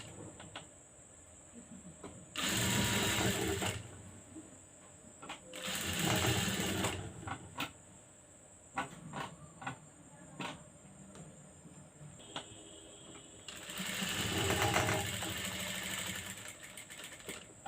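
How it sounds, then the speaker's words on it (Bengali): A domestic sewing machine stitches lace onto fabric in three separate runs of steady mechanical whirring, close by, with quieter handling and clicks in the gaps. "তারপরে আমি এই লেসটা জয়েন্ট দেবো, এটার উপর দিয়ে এরকমভাবে রেখে সেলাই দেবো"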